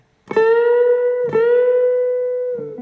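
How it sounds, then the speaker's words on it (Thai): An acoustic guitar note is plucked and bent up a whole tone, plucked and bent again, then drops back down as the string is released; close, clean, no voices. "พอครบ1 เสียงปุ๊บเพื่อนๆปล่อยลงมาแล้วก็ดีดดันขึ้นไปอีกครั้งหนึ่งจะเป็น2ครั้งนะครับ"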